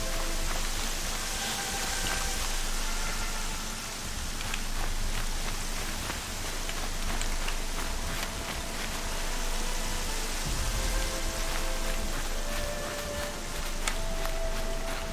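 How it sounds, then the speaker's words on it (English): Steady rain in the video game Horizon Zero Dawn, a dense, even hiss of falling drops over a low rumble, continuous and fairly loud throughout with no talking. "But this is a place that rains a lot."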